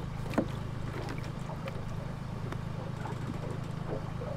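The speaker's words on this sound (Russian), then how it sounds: "Это лодка, да?" A small boat under way on open water off Greece, with a low steady engine hum and water wash running throughout, fairly close and even, with brief splashes.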